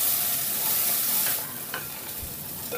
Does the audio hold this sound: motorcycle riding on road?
no